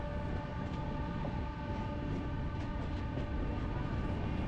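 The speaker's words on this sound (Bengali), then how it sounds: "তখন দুরন্ত গতিতে আমাদের ট্রেনটি ছুটে চলেছে" Passenger train running at speed between Howrah and Gwalior, heard from inside as a steady, loud rumble and rattle of wheels and carriages with a faint whining tone, continuous throughout with no talking.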